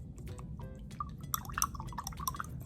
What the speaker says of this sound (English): Just pouring in.